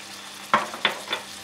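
Spicy snails sautéing with onion in a pan, three short scraping, clicking stirs over a faint background sizzle, close and brief, with no speech.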